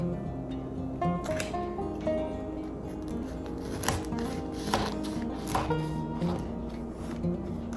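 A knife cuts through a loaf of homemade potato bread, giving a run of soft, close sawing and crunching strokes that continue steadily at a moderate level, with no talking.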